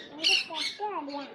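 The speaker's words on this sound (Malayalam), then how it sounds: "ഇത് തത്തയാണ് കേട്ടോ, ഗ്രേ കളർ തത്ത." A grey parrot at an exotic bird park in Wayanad gives a short, harsh squawk, close and fairly loud, breaking into a couple of rasping calls within about a second.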